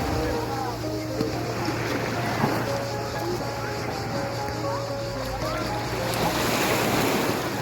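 Sea waves wash steadily against the shore at Manastır Bay, Erdek, with wind rumbling over the microphone and faint voices in the background.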